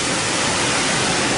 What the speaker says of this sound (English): It's a dryer.